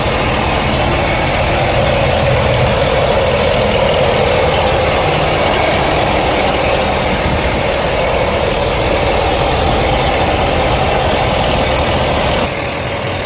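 A Ford F750 truck with a 6.7 liter Powerstroke diesel idles in a constant, loud, close rumble with a steady mechanical clatter, unchanging throughout and no voices.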